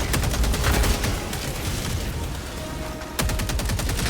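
Dense, continuous gunfire from several weapons at once in the video game Helldivers 2, including autocannons against automatons, a steady crackling barrage with a sharp burst of rapid shots near the end.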